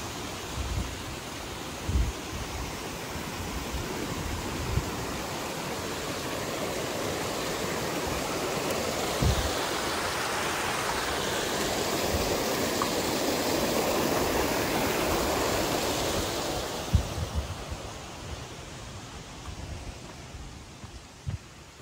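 A spring-fed stream on Madeira flows steadily in a broad, continuous rush of water, fairly close and unbroken, with a few low knocks or footsteps near the start and end and no voices.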